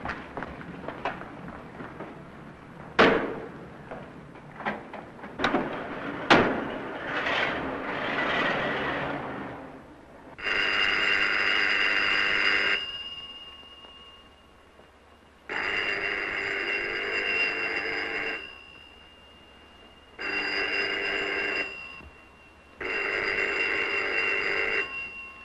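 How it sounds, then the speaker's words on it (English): An old telephone rings in a Paris setting from a 1935 film, a few knocks and clatters first, then four long loud bursts of ringing separated by regular pauses. "Phone's been ringing for 10 minutes."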